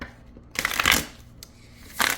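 Cards shuffled poker style give two short papery riffling bursts close to the microphone, with quiet gaps between them.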